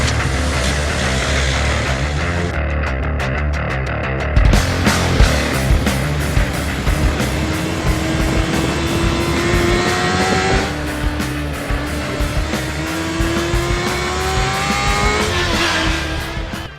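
A 2009 Suzuki GSX-R1000 sportbike engine roars loud and close while riding, revs climbing and falling through gear changes in a continuous high-pitched whine.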